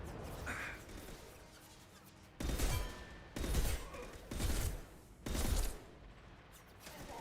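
Sniper rifle fire in the Mass Effect video game: four heavy, booming shots at roughly one-second intervals, each with a short crashing tail, loud and close.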